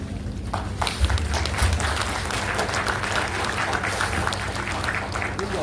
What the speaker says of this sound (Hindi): आप लोग उनका सम्मान करते हुए, स्वागत करते हुए एक बेहतर ढंग से तालियों से उनका स्वागत करें